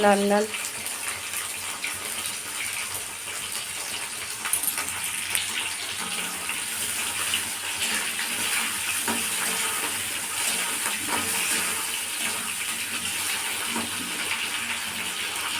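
Prawns frying in a pan for a Christmas dish, a steady loud sizzle with bubbling oil running throughout and no pauses.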